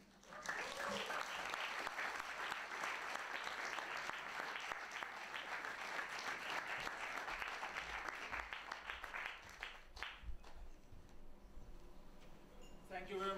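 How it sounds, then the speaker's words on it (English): Audience at a Science & Cocktails lecture event applauding a speaker's introduction, a long sustained roar of clapping that tapers off after about ten seconds into a few scattered claps and room noise. "Please give an applause to Søren Brunak."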